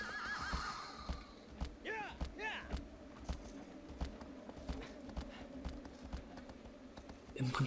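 Argo the horse in Shadow of the Colossus whinnies in several clear rising-falling calls early on, over a steady run of hoof clip-clops that continues throughout.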